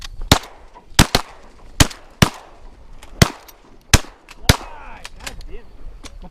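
Shotguns fire at teal over water on a duck hunt, around ten sharp, loud reports in quick irregular succession, some overlapping, with faint background noise between blasts.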